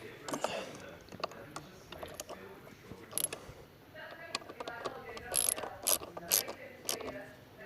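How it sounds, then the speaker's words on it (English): Bolts on a sat nav mount being hand-tightened on a Voge 900 DSX motorcycle, with close, irregular metallic clicks, ratcheting ticks and small clinks over a quiet background. "And final push on each one to get them torqued up, or tightened up I should say, to a reasonably tight standard."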